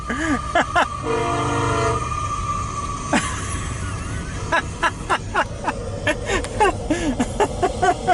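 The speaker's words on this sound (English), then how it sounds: "You wanna hear a train, folks? It does sound like a tornado." A train rumbles past near the Empire State Trail in Jordan, New York, its horn sounding in long loud blasts over a steady roar of rolling wheels and cars, with clicks and knocks from nearby handling.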